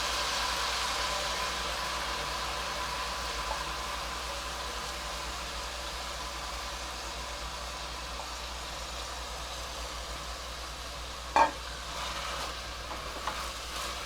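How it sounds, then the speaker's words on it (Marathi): Soaked rice is stirred into sautéed mixed pulses for khichdi, giving a soft, steady sizzle under a low background hum, with a brief utensil clatter near the end. "हा जो तांदूळ भिजवून ठेवला होता मी तो घालते आहे"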